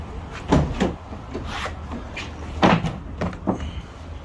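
The door of a Ford Transit van is opened up close, giving a few sharp clunks and latch clicks with a brief rattle between them and no talk.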